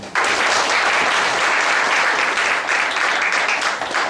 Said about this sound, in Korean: 박수로 보시겠습니다.